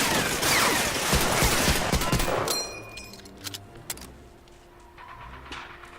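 Dense bursts of machine gun fire from guard towers during a night mission in the 2003 PC game Medal of Honor Allied Assault Breakthrough, loud and rapid for about two and a half seconds, then tapering to scattered distant shots and ambient noise.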